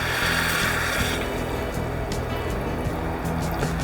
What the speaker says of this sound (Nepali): पानी राखिदिउँ